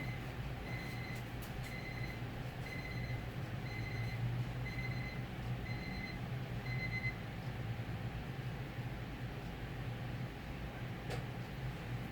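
A kitchen timer goes off with a regular series of about seven short, faint electronic beeps, then stops, leaving a steady low background hum.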